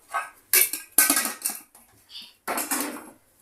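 Rice being served onto metal plates: repeated scraping and clinking bursts of a spoon against metal, close by, with short gaps between scoops.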